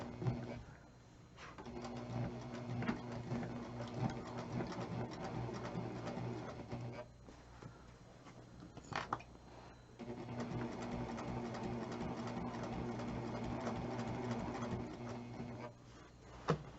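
A sewing machine runs slowly while stitching a pillow, in a steady mechanical whir with a fine rapid rhythm that stops and starts a couple of times, close and quiet.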